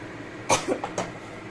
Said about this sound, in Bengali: সরি এত জোর হাঁচি কাশি পেয়ে গেল এই ফোড়নের গন্ধে।